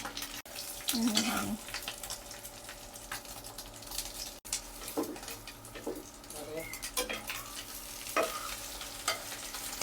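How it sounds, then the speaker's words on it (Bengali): An egg frying in oil in a home kitchen late at night, with steady sizzle and irregular spattering pops, plus scraping and occasional clatter of a pan, close up with faint background noise. "ডিমে তেল ছিটতেছে"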